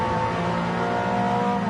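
Race cars in Gran Turismo 7 roar through turn 1 at Catalunya in a touring car event, engines droning at a constant high pitch with a dense, unbroken mechanical whine and no voices.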